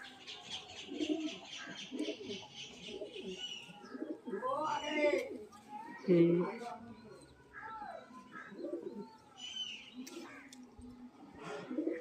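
A male pigeon coos in repeated soft, throaty phrases close by, mixed with faint chirps and occasional wing movement, while someone talks throughout.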